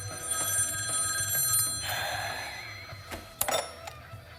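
In Devil May Cry 5, a telephone rings for a phone call, with repeated bell-like trills over a faint background, followed by a few sharp clicks near the end, and no voices.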